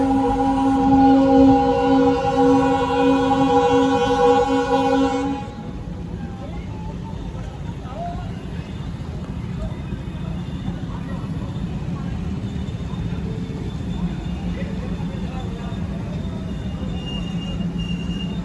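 Sleeper class passenger train stopping at the outer signal near Bhavnagar Terminus: a loud steady horn-like tone for about five seconds, then a low rumbling idle of the train with faint background noise.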